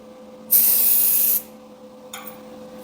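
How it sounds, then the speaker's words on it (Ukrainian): TBi protective anti-spatter spray is applied to a metal strip in one pass, a loud close hiss of nearly a second, followed by a shorter, fainter puff. "А на другу захисний спрей TBI."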